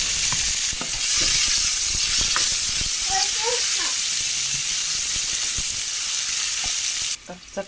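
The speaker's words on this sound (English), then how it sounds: "I will just add my onions." Onions hit the hot pot for a lamb and vegetable casserole, setting off a loud, continuous sizzle that holds steady for several seconds before cutting off abruptly near the end.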